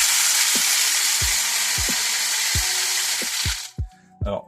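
Chicken feed poured through a makeshift funnel (a dishwasher salt funnel) into a poultry feeder makes a steady loud rushing hiss, with soft regular knocks underneath, then stops abruptly and leaves a few faint clicks.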